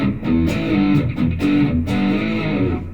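Electric guitar with fresh DR strings played through an MXR M75 Super Badass Distortion pedal, strumming thick, saturated chords in a steady rhythm with a full, gritty tone and no talking.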